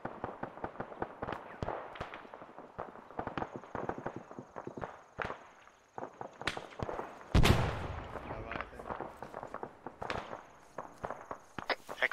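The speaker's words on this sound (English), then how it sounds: "Explosions in the compound to our southwest." Explosions and gunfire in Arma 3 combat at a compound: rapid, dense bursts of sharp shots crackle throughout, with a heavier blast partway through and brief voice chatter in between.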